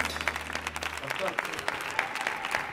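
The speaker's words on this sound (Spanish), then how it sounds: "Grande Russell, fuerte el aplauso." Studio audience applauding on a Spanish-language variety show, a dense run of claps heard over a fading low musical tone, moderately loud and steady.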